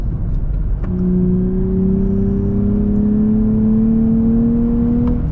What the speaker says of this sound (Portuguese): modo Sport ligado, o motor V6 acorda